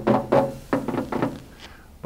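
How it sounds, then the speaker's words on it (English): Several dull, hollow thuds from light knocks on the body panel of a 1970 Mercury Cougar XR-7 convertible, where body filler lies under the paint, in an uneven rhythm, close up with no voices. "when you hear this dull thud in here, there's Bondo, I bet"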